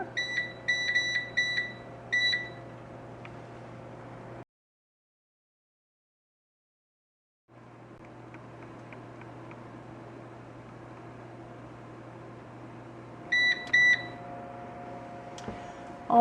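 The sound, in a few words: kitchen timer being set, beeping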